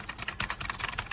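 Rapid typing on a Razer Huntsman Mini 60% gaming keyboard with clicky switches, a plastic bottom and a metal top plate. The keystrokes are close and crisp in a fast, even clatter, with no voices.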